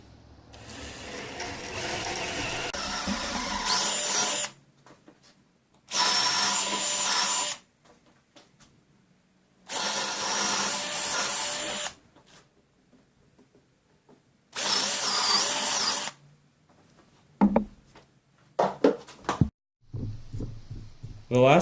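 A power drill bores 11/32 inch holes into the feet of a simple wooden bar stool, running in four loud bursts of a few seconds each, separated by quiet pauses and a few handling clatters near the end.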